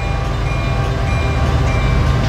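Freight train running in the Run-8 train simulator game, a loud, steady low diesel rumble with constant rolling noise and no talk.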